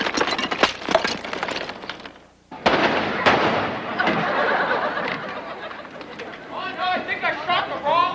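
A staged gunshot rings out at a Universal Studios stunt show as a single sharp crack amid lively audience chatter, with people talking throughout.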